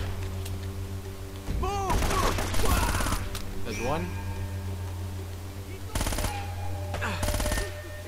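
Bursts of gunfire from the Uncharted: Drake's Fortune video game come in short, loud volleys separated by gaps, over a low steady game hum. Voices talk between and across the shots.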